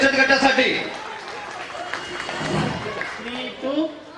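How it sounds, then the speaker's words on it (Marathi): Audience clapping for a women's self-help savings group at a Khel Paithani game event, a short burst of applause that fades under a speaker's voice and background chatter. "जोरदार टाळ्या झाल्या पाहिजे श्री एकता बचत गटासाठी"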